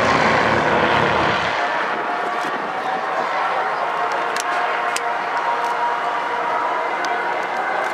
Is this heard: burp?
no